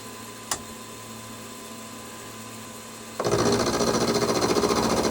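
After a faint machine hum and a single click, a milling cutter bites into a metal steam chest cover for a Stuart S50 model steam engine with a steady, rapid chattering whir close by.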